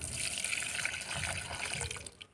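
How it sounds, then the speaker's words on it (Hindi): Water poured from a container into a flower pot on a rooftop, a steady splashing trickle at close range that tapers off at the end, no talk. "अब दूसरे में भी पानी डाल लेती हूँ।"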